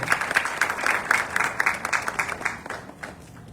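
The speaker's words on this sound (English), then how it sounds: "A big applause." Applause at a Rotary club installation ceremony, a burst of clapping from a seated audience that swells briefly and then fades away over a few seconds.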